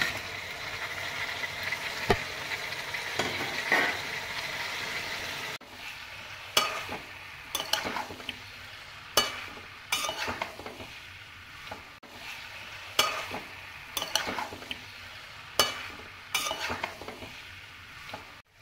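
Pieces of chicken sizzling steadily in a hot pan while a spatula stirs them, with a constant loud fry under repeated sharp scrapes and clinks against the pan, close up and no talking.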